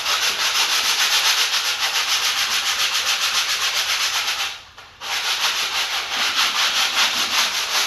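Hand sanding of wood planking on a model tank, a steady close rasping scrub in quick back-and-forth strokes, broken by a brief pause before resuming.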